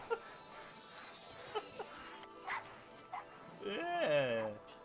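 A dog in the video game It Takes Two gives a short run of barks and whimpery yips near the end, mixed with game sounds and someone talking.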